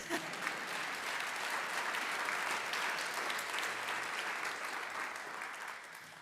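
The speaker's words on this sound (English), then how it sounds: "sure, you can applaud." An audience at a university expert panel in Darke Hall applauds steadily, dense even clapping with no talking throughout.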